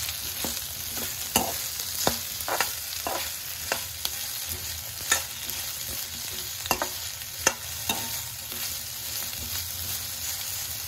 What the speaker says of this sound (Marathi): भेंडी ऍड केल्यानंतर यामध्ये हे चांगलं मिक्स करून घ्यायचं आहे